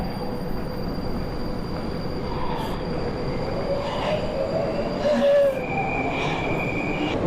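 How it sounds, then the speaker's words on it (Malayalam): Underground metro train in Moscow rumbling steadily through a tunnel, with a constant low roar, a thin whine, and brief high wheel squeals near the end. "underground metro"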